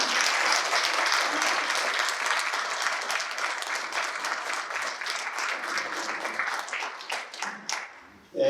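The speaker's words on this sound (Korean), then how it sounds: "좀 열심히 더 하시라는 뜻에서 박수 드립니다" Sustained applause from a crowd at an anniversary ceremony for the Battle of Cheongsanri, steady and dense, fading out near the end.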